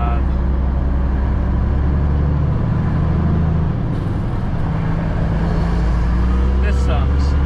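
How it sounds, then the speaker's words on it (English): Heavy highway traffic on the 405 freeway in California, a loud steady rumble of engines and tires heard from inside a truck, with deep drones and a voice talking over it. "Gotta love traffic on the 405."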